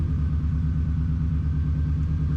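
Unbled power steering pump on a Subaru WRX groans with a steady low drone and throbbing pulse, loud and close, running continuously with no talk over it.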